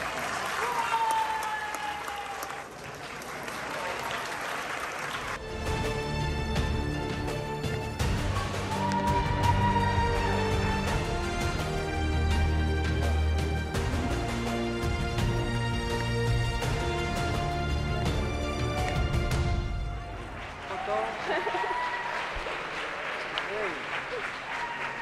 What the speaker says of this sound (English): I heard a lot of people cheer